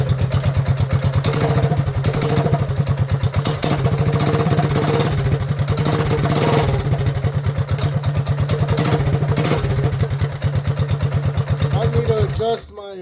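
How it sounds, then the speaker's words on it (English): Coleman B200R mini bike engine with 18 lb valve springs running cold on partial choke, a loud close rapid chugging putter that holds steady before abruptly cutting out near the end. "It's a cold engine, y'all."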